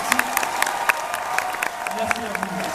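Audience clapping on a French talk show stage, moderately loud with scattered sharp individual claps and faint voices mixed in, lasting a few seconds.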